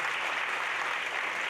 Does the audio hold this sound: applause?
yes